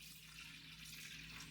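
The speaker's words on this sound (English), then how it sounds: "So I'm going to go ahead and put the water in now." Water pouring steadily into the reservoir of a programmable drip coffee maker, set up for an 8-cup brew; a soft, continuous trickling splash, faint and close, with no talking.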